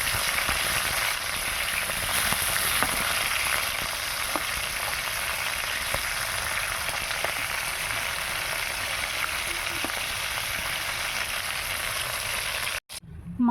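Bain fish frying in hot oil in a kadai on its second side, a steady dense sizzle with faint crackles running close and continuous, cutting off briefly near the end.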